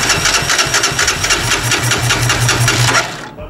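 Italika Z-250 motorcycle, with a fuel delivery fault, cranks continuously for about three seconds with a rapid, even churning rhythm that never catches, then stops; close and loud with no talking.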